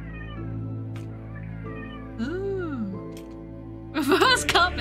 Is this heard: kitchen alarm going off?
no